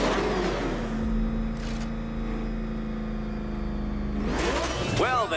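The Batmobile's engine in Batman: Arkham Knight hums at a steady pitch, then rises into a sharp revving sweep near the end, with a spoken line underneath.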